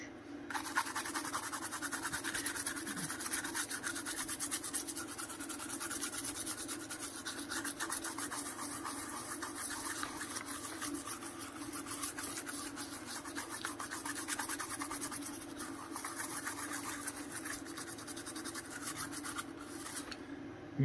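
A toothbrush scrubbing a disc drive from an FM Towns Marty console after isopropyl alcohol, a continuous rapid scratchy rubbing held close and steady for about twenty seconds.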